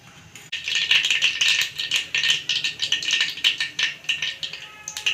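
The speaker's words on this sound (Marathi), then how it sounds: "मोहरी आणि जिरं तडतडल्यात" Mustard seeds and cumin spluttering in hot oil for a tempering while shingole are being made: rapid, close, loud crackling pops in irregular bursts that keep going without pause, with no talk.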